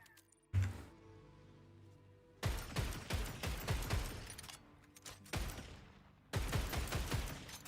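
Shotgun firing in a looter-shooter video game: one sharp blast, then three dense bursts of rapid gunfire separated by brief pauses, loud and close, with no talking.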